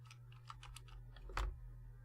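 Quiet clicking of keys on an unstable computer keyboard, a run of irregular taps with one louder thump near the end, over a low steady electrical hum.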